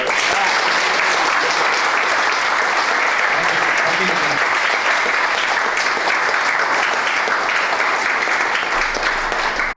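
Audience at a live chat session giving a loud, sustained round of applause, dense and even clapping that fills the whole stretch close up, with voices faintly beneath.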